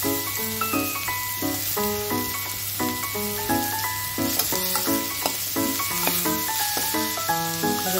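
Washed potatoes tipped into a pan of spices frying for quick potato masala rice, giving a steady close sizzle and stirring under prominent melodic background music with a low hum.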